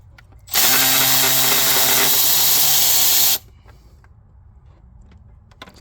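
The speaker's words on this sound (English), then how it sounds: "Quarter drive electric ratchet." A quarter-drive electric ratchet whirs loudly for about three seconds while straining against a tight bolt on a 2006 Ford Ranger, then cuts off, leaving quiet shop ambience with faint clicks.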